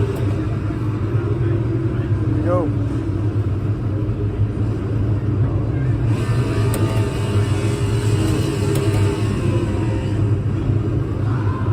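A NASCAR racing simulator's car engine rumbles low and steady throughout, with a brief rising rev partway through and a rougher, busier stretch later; someone speaks briefly over it.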